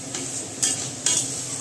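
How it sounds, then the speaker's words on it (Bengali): Spice paste for a ripe-tomato rupchanda fish kalia, loosened with a little water, frying and being stirred in a pan: a steady close sizzle with two brief louder scrapes of the spoon, no talking. "এবার মশলাটাকে ভালো করে কষাতে হবে।"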